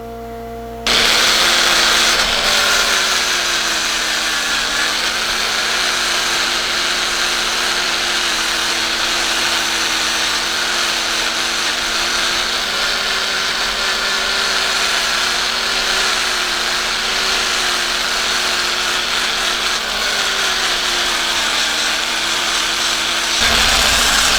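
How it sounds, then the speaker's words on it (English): A power sander takes the small leftover nub off the bottom of a live-edge wooden bowl, a steady loud whir with a gritty abrasive hiss that runs almost unbroken from start to finish. "I'm just going to use my power sander to just sand that little nub off and then clean up the bottom"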